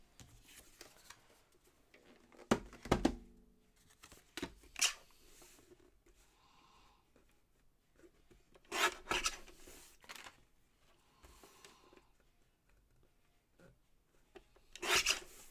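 Paper being trimmed for card making, a few short scraping and rasping bursts of cutting at close range, separated by quiet handling pauses, with no talking.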